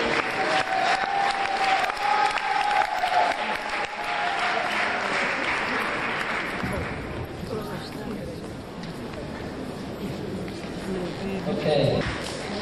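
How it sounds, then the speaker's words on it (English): An audience at a Camden Town Hall festival applauds to welcome the dancer Leela, sustained dense clapping near and loud, followed by someone speaking over fading applause. "I'd like you to give a big round of applause, a big welcome for Leela"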